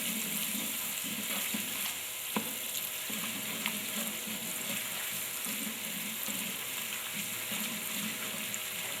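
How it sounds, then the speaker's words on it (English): Butter melting in a pan with nutmeg, ginger and garlic while being stirred, giving a steady soft sizzle with occasional scrape and clink of the spoon, close and continuous, no voices. "We stir together so I'll be able to melt the butter."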